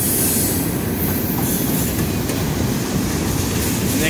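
A train running on double-track main line, loud and close, with steady rumbling wheels, a continuous roar and faint squeal throughout.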